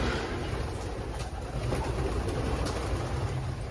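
Many pigeons coo together at a pigeon test loft holding around 2,700 birds, a dense continuous murmur of overlapping calls close by with no speech.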